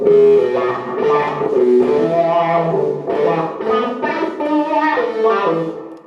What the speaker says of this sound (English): Kind of nice thick wah sound rather than a super bright one